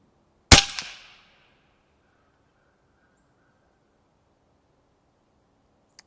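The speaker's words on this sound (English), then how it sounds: "I'm going to put one more of these through there. Being that this is the last one we're shooting" An AEA HP SS Max 357 air rifle fires a single slug at low pressure: one sharp, loud crack with a brief ringing tail, then near silence and a faint click at the end.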